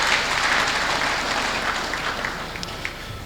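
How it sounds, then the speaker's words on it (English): Attendees at an investors forum in Benue, Nigeria, clap in a round of applause, a dense, fairly distant patter that slowly tapers off toward the end without any talking. "can we celebrate ourselves with a round of applause?"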